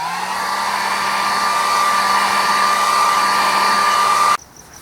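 A heat gun warming a car door panel on a 2001 Toyota RAV4 blows with a steady, loud whirring roar and a faint high whine, then cuts off abruptly near the end, leaving quiet room tone.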